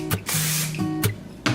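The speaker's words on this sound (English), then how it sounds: "Just gonna give it one more spray." Hairspray is sprayed onto hair from a can in close, airy hisses: a short puff, one longer sustained burst, then two more quick sprays, with no speech.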